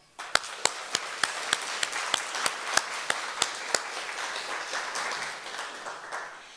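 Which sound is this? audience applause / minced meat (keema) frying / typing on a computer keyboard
audience applause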